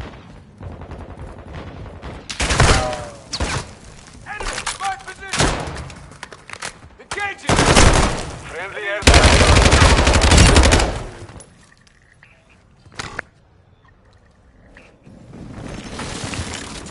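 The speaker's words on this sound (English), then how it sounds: "You are taking effective fire." Video game gunfire with loud bursts of automatic fire and heavy shots, dense in the first half and then trailing off to sparse single reports, heard alongside game radio chatter.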